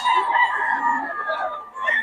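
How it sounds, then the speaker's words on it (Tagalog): A rooster crows in a long, drawn-out call on a farm, with other chickens faintly audible around it, fairly close. "Saka mga manok ni Boss Jun."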